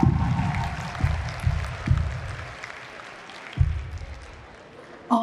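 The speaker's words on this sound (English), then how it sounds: "can I have another round of applause?" Conference audience at a closing plenary with comedy, applauding in short bursts of clapping that swell and fade several times, with a final burst at the end.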